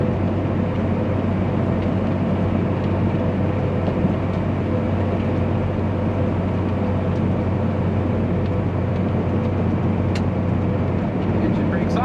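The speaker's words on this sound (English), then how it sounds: "Let's bring in some low engine braking." A truck's engine brake drones as a low, continuous, loud rumble on a highway, staying steady and unbroken throughout.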